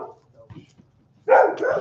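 A single loud dog bark bursts in near the end, close by, after a mostly quiet stretch with faint low sounds.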